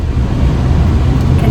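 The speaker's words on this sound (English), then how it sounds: "Can you hear me over the air blower," A car's air conditioning blower running steadily inside the vehicle, a loud, continuous low rushing roar with no breaks that fills the cabin.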